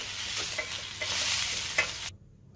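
Sliced onion sizzles loudly in hot oil in a pan for a Marathi mutton rassa, with a few stirring scrapes breaking through, before the sound cuts off abruptly.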